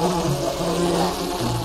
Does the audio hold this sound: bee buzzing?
yes